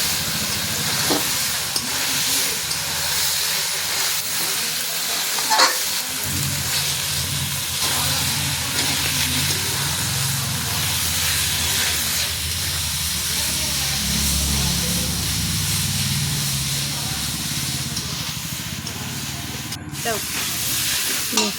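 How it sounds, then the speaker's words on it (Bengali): Mutton masala frying in a pan, a steady broadband hiss and sizzle running throughout with occasional stirring scrapes, close and continuous, with faint speech-like sounds mixed in. "দেখুন এবার মাংসটাকে কষিয়ে নিবে ভালো করে।"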